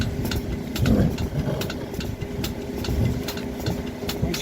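Pump engine drawing beet juice out of a tractor tire into a tank, idling in a steady mid-pitched chug with regular knocking pulses, fairly close and continuous.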